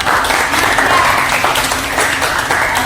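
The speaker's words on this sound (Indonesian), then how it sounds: "Beri aplaus untuk" Classroom applause, a dense steady burst of many hands clapping together for a few seconds, loud and close, filling the room evenly.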